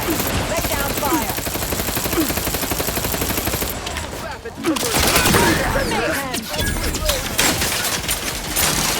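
Sustained automatic gunfire in the video game The Outer Worlds 2, rapid loud bursts and rattling volleys continuing almost without pause, with a brief lull partway through.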